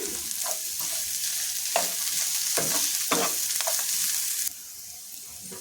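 Onions for chicken fry sizzle steadily in a pan while a spatula stirs them, producing a run of distinct scraping strokes over the hiss before the frying quiets slightly near the end.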